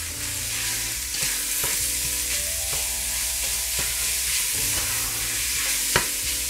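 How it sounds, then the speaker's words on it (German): Minced pork and beef sizzles steadily in a hot pan with browned onions, with occasional scraping stirs of a utensil breaking up the mince; no voices. "Jetzt, wo die Zwiebeln Farbe bekommen haben, gebe ich mein Hackfleisch hinzu."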